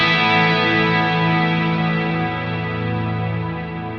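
A sustained, distorted electric guitar chord rings out with a thick lower octave doubling beneath it from an octave-down pitch shifter set to a 26.2% mix, slowly fading.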